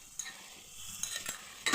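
A spoon stirs small fish frying in oil with mustard paste in a pan, giving faint sizzling under a few soft scrapes and taps of the utensil, heard up close.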